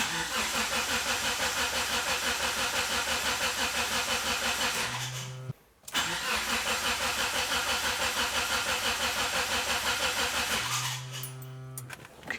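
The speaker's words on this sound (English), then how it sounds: "You use some throttle, first start, whatever it takes to try and get it to go." An engine being started for the first time with throttle cranks hard and steadily for about five seconds, stops, then cranks again in a second long bout. The close, loud cranking briefly changes pitch near the end of each try.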